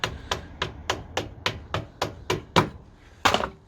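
Hammer taps on a BMW R1150 GS rear suspension part: about eleven light, evenly spaced metallic knocks, close and fairly soft, with one slightly harder blow near the end.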